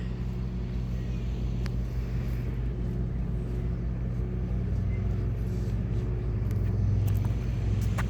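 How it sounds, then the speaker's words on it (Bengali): A speedboat passes on the water in the evening, its engine a steady low rumble that swells slightly toward the end, heard at a distance. "আর দেন একটি স্পিড বোট যাচ্ছে ওই ওই দিক থেকে"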